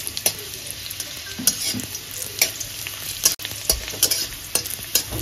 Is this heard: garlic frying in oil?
yes